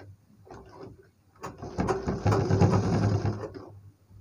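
A sewing machine stitches a triangle-design blouse pattern in a steady mechanical whir, starting with short bursts and then settling into a louder continuous run up close before stopping.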